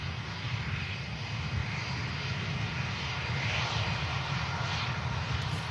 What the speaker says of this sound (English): And we've got another heavy on the approach. I think this might be one of the Norse aircraft.